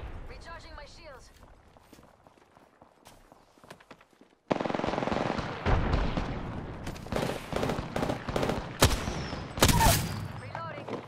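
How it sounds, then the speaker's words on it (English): Rapid bursts of automatic gunfire in the battle-royale video game Apex Legends, quieter at first and then loud and sustained from midway, with repeated volleys and sharp single shots mixed with game sound and speech. "I'm getting shot at."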